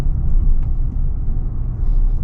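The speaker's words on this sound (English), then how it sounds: "You get like really nice intake noises, and the exhaust is pretty rumbly" A Toyota Tundra TRD truck's engine intake and rumbly exhaust, with some piped-in engine audio, heard as a steady deep low rumble from inside the cab that swells and eases slightly, with no talking.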